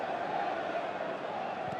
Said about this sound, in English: Great noise inside the City ground, the home crowd doing their bit.